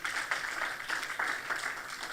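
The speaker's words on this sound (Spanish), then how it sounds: "Denle ese aplauso fuerte al Señor." A church congregation applauds together, a steady wash of clapping heard at a moderate distance, fairly soft and continuous throughout.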